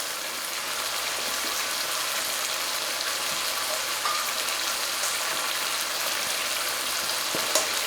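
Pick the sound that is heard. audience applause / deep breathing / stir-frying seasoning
stir-frying seasoning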